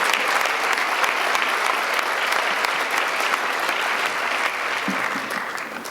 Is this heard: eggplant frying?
no